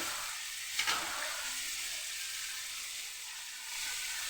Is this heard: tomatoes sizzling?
yes